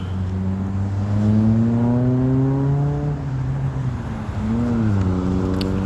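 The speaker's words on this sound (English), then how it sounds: "trying to cross this traffic is crazy here at Crabtree Mall" Road traffic near Crabtree Mall: a loud, close engine hum with tonal whine rising and falling as vehicles pass, steady throughout.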